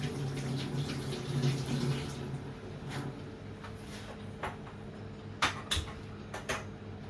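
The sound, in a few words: washing hands under running water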